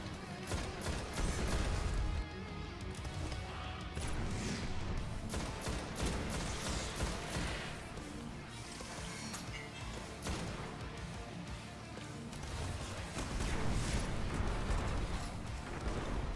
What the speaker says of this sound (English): Those grenades, man. Those grenades.